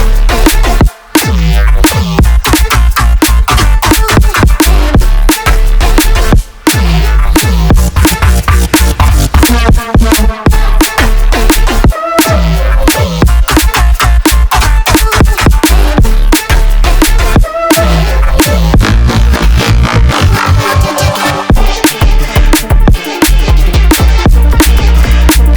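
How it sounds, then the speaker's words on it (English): Melodic neurobass track built in Serum, dense and loud throughout with heavy low end, rhythmic gaps and stutters, and bright layered synth textures over a driving beat. "how to make this melodic neurobass"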